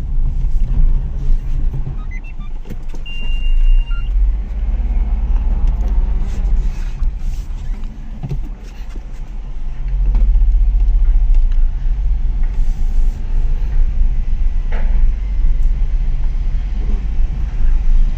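A car driving along a road after a U-turn, heard from inside as a loud, steady low rumble of engine and tyres that swells midway, with no talk.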